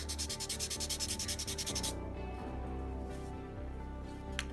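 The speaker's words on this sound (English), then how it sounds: "It is sanding. You can see the sanding marks on it." Foam-Mo air dry cosplay foam is sanded by hand, a fast rhythmic rubbing for about two seconds before it stops, leaving a faint background hum.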